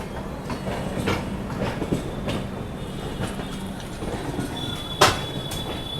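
The Mumbai Mail, an Indian passenger train, rolls along with a steady rumbling roar and faint wheel clatter, heard from inside, with a brief sharp screech near the end.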